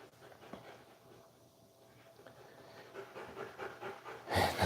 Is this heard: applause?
no